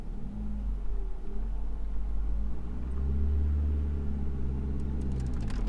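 A 1.8T VW Passat B5 with a manual clutch pulls away from a stop, its engine a low, steady rumble that swells slightly as it takes off; close, continuous, no talking.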